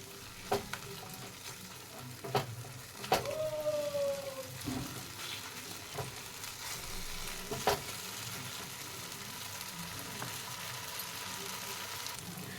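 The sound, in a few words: cashew-poppy paste frying with onions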